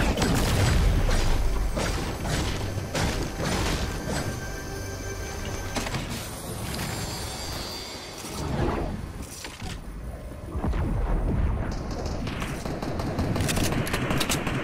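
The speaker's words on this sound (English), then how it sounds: "What was that shooting?" Sustained, dense gunfire in a Fortnite match, with overlapping automatic bursts and booms running nearly continuously at high loudness, sometimes slightly easing before picking back up.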